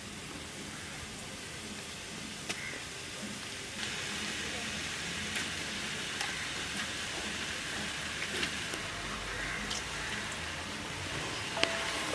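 Two kilos of chicken cook in a pan with softened onions for a chicken curry, giving a faint, steady crackling sizzle with scattered small pops and clicks.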